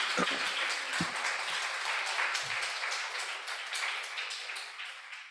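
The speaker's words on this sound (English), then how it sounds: "A round of applause." An audience at a youth agrifood systems event applauds after a speech, a steady, fairly quiet patter of clapping across the room, with a few brief voices over it at the start before it gradually thins out.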